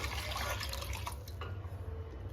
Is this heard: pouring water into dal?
yes